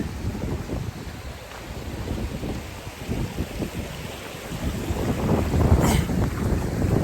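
Strong gusting wind buffeting the microphone on the West Highland Way near a water crossing, a rough continuous low roar that swells louder toward the end, with no voices.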